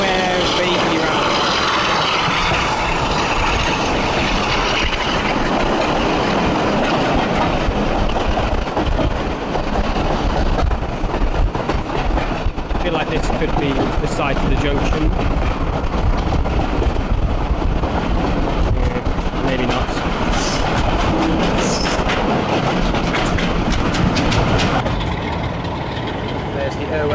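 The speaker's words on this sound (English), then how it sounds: "this is not a steam train, this is a diesel train." A diesel heritage train runs along the Holcombe Brook line of the East Lancashire Railway, giving a loud, continuous engine rumble and rolling wheel noise that stays steady throughout, with people talking over it.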